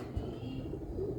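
A purebred pigeon with red-bead markings gives a short, low, soft coo up close against a quiet background.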